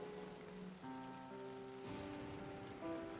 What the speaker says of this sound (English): the torrential rain comes down all around her